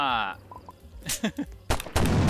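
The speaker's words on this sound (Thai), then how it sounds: "ยิงเฮดช็อต ยิงเฮดช็อตครับทุกคน" Gunshots fire at zombies in the Roblox game Zombie Tycoon, with a few loud sharp bursts near the end. A voice talks over the game sounds.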